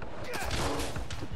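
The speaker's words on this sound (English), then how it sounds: "Watch out for gunfire." Rapid, dense bursts of gunfire crackle continuously at close range in the video game Spider-Man: Miles Morales, layered with other loud game sound effects.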